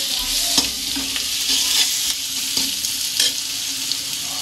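Chili potatoes being stirred and fried in a pan give a steady close sizzle throughout, broken by repeated scraping stirs of a spoon against the pan.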